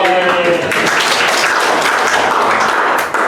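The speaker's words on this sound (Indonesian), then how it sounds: "Tepuk tangan dong." Applause from a group gathered at a teachers' positive-culture training session, a dense, steady wash of clapping lasting a few seconds without pause.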